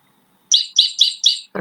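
Birdsong played back from a recording: four quick, bright chirped notes in an even rhythm after a short silence, clear and close.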